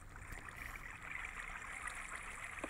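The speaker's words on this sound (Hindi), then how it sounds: "पानी स्प्रेड होगा" Minecraft water flows and spreads across placed blocks, a soft steady rushing trickle that stays faint and even throughout, with scattered small clicks from block placement and no speech.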